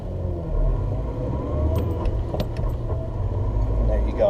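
A truck engine rumbles low and steady as it pulls away in first gear, with someone talking over it and a few faint clicks and rattles in the cab.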